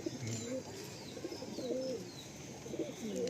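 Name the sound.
Giribaj pigeon cooing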